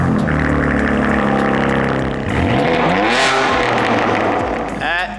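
A BMW G87 M2 with its S58 engine and an FI exhaust system with high-flow catted downpipes and catback, revving loudly up and down close by, the pitch sweeping through several sharp rises and falls.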